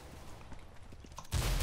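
Gunfire in the video game Counter-Strike: Global Offensive, a run of quiet clicks and pops giving way to a loud, sustained burst of shots in the last moments.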